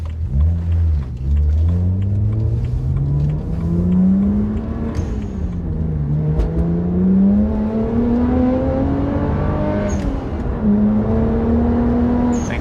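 A BMW 1M's tunable engine accelerates steadily up through the revs over about twelve seconds, with a brief dip and climb back as it shifts, a loud, continuous rising drone heard close and alone.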